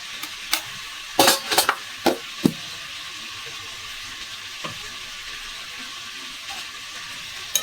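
Spice paste frying in a covered pan, with a soft steady sizzle running throughout and a few sharp clatters and knocks scattered through the first half.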